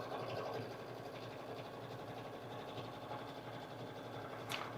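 A sewing machine quilts the backing of a Kimberbell crossbody bag, running in a steady continuous whir with a dense mechanical stitching patter at even loudness throughout, close by and alone.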